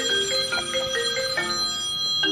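A phone's ringtone for an incoming call plays loud and close, a repeating electronic melody of bright, bell-like tones with no voices over it.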